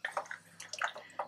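Water is poured from a glass into a plain pot of mutton curry, making soft splashing and dripping bursts. The sound is faint and intermittent, with no talk over it.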